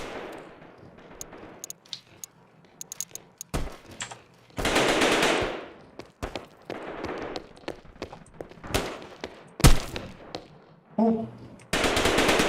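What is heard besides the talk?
gunfire in a video game shooter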